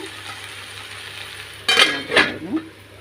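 Okra frying in a pan, stirred a few times after a quiet low sizzle: two or three brief scraping stir strokes with a soft clink rise over the steady frying hiss near the end.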